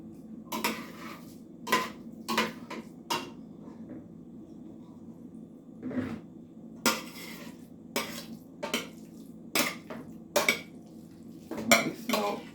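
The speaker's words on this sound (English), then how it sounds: "Now I'm going to transfer the sweet potatoes into this bowl." Sweet potatoes scooped from a pan into a bowl in a home kitchen, a series of sharp, close clinks and scrapes of utensil on cookware coming in irregular bursts with quiet gaps between.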